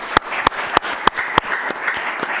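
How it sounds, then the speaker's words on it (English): A sparse round of applause at a city council meeting, several loud distinct claps in a slow rhythm from a few nearby people over a softer background patter that fades quickly. "Round of applause for them, please."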